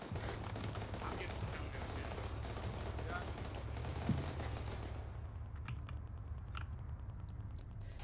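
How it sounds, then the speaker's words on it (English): Mortar fire in a military video game: a dense, continuous rumble of distant blasts and gunfire through the first five seconds, with a sharp impact near four seconds, then thinning to scattered pops and clicks. "Those are more mortars."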